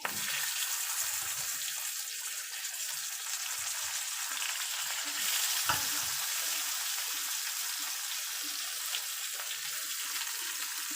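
Tomatoes frying in a pan for fish curry, a steady close hiss of sizzling oil with occasional soft stirring clinks and scrapes.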